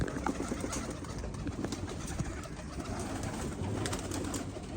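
Pigeons coo softly amid a busy, rustling background, low murmuring calls repeating close by.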